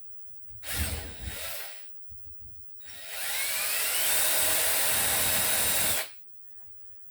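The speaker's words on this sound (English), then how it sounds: "You need to drill a hole" A power drill bores a hole in a camper shower screen door for a knob, in two bursts: a short whine, a pause, then a longer steady loud run that cuts off.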